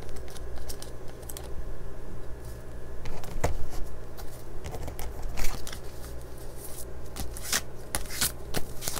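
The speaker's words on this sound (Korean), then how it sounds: "제가 카드를 섞을 때 섞는 과정을 보시면은" Tarot cards shuffled continuously for a tarot reading, a steady papery riffling and sliding with frequent crisp slaps and taps, close and moderately loud, with no talking.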